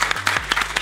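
Brief burst of audience applause for a singer on a French talk show set, a few distinct claps standing out over a steady low hum.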